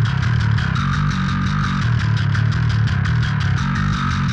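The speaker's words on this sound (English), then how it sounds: "Right, so the bass sounds like this." Bass guitar through a stock Darkglass-style pedal tone, playing a steady, driving line of repeated low notes with a slightly gritty top. Loud and close, with no talking.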